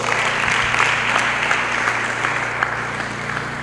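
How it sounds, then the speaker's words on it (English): Applause from a conference audience of leaders, a dense, steady clatter of many hands clapping that holds at an even, fairly loud level the whole time with no voices over it. "So please give yourself a round of applause"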